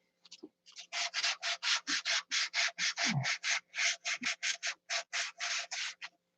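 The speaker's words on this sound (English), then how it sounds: "So, keep sanding. This is the fiddly time." Hand sanding on a model aircraft build, a close series of about twenty brisk, evenly paced rasping strokes back and forth, loud in an otherwise quiet room with no talking.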